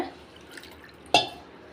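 Water poured from a cup into a bowl of wheat flour and semolina: a single sharp splash lands near the end, over a quiet kitchen background.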